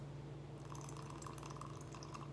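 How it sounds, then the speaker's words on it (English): A small splash of pineapple juice poured into a cocktail shaker already holding pear puree and ice, a quiet, brief liquid trickle and drip lasting a couple of seconds with no voices. "I'm gonna add a splash of the pineapple juice"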